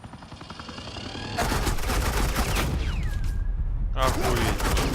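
Gunfire in the Batman Telltale video game: a dense, continuous burst of rapid automatic fire, loud and close, running through the clip while voices and game effects sound over it.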